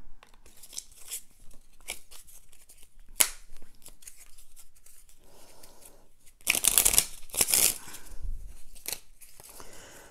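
A deck of playing cards being shuffled by hand: scattered quiet riffles and taps, then a louder burst of riffling in the middle, with soft handling noises around it.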